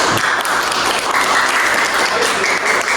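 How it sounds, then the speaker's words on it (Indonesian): Applause for a student group in a classroom lesson, dense and sustained clapping from many hands that fills the room at a steady, fairly loud level throughout. "beri aplaus untuk kelompok"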